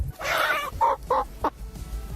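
Chickens cluck in a few loud, close bursts, one longer squawk followed by three short clucks, with no talk over them.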